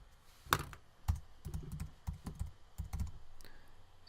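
Irregular keystrokes tapping on a computer keyboard while CSS code is typed, a handful of close, moderately loud clicks spaced unevenly over a quiet background, no voices.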